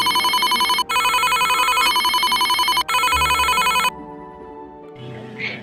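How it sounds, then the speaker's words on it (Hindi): A mobile phone ringtone rings loudly in bursts of bright electronic tones with short gaps, then cuts off, leaving a faint hum behind. "थोड़ी ही देर में लाली का फ़ोन बजता है"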